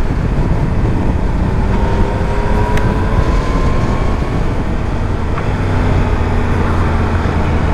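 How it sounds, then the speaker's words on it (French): A Yamaha MT-09 SP or MT-10 SP four-cylinder motorcycle pulls hard under acceleration, its engine tone rising steadily beneath heavy onboard wind roar, continuous and loud with no talking. "Là, on va avoir vraiment la puissance moteur du 4 cylindres."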